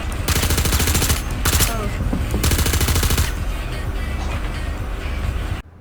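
Ship guns on a Valkyrie in a video game fire in long rapid automatic bursts, loud and dense with brief gaps between volleys and a rumbling engine bed underneath, ending abruptly.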